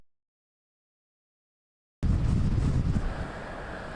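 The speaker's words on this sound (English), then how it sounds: "we're already seeing wind gusts at your place here at Parish Marina gusting up to 50 miles per hour" Strong wind gusts buffet the microphone at a marina during Hurricane Ida, a dense roaring rush that bursts in abruptly after two seconds of silence and stays loud and steady.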